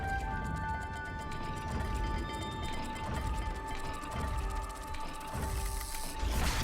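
Repeated mechanical clicking and ratcheting of a dial being turned in Hogwarts Legacy, with faint tonal hums and soft background ambience.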